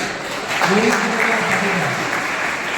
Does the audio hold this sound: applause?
yes